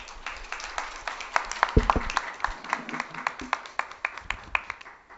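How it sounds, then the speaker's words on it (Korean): Scattered hand claps from a small group, uneven and sparse, fading out toward the end. "박수 한 번 더 주고 계세요."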